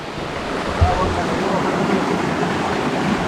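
Steady broadband rush of river water flowing at a canyoneering spot near a natural bridge, loud and continuous close to the microphone, with a brief low thump near the start.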